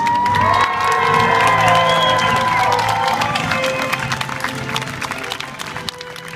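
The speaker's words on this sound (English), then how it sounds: "fill your lungs and give the biggest cheer you have ever given for our Trebuchet Master Charlotte" A large crowd cheers, whoops and applauds loudly for a trebuchet crew at Warwick Castle, with children's shouts mixed in; the roar stays strong and slowly fades toward the end.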